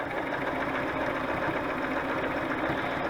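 A sewing machine stitches lace onto a junk journal cover, a steady, close mechanical whir that runs without a break.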